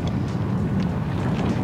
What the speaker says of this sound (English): it's very windy, as you can probably hear